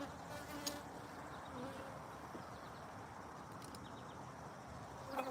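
Honey bees buzzing faintly around jars during a honey harvest, a soft continuous hum with occasional clinks close by.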